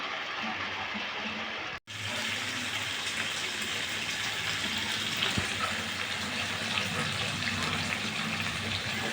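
Water gushes steadily into a pan of green coriander chicken curry, a loud, continuous pour with a brief break near the start.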